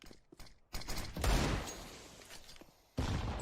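Gunfire from a CS:GO match crackles in short bursts, a few sharp shots then a denser volley and another burst at the end, moderately quiet.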